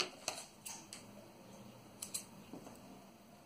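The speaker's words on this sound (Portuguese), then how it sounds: "Então, eu vou cortar a minha..." Scissors cut a smaller triangle piece for a kawaii YouTube logo appliqué, a few crisp, close snips spaced unevenly over a quiet room.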